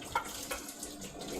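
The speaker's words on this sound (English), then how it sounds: "And then I'm going to drain the rest." Pasta water from cooking ramen being drained into a kitchen sink, a steady rushing pour of water hitting the basin throughout, fairly close and continuous with no talking.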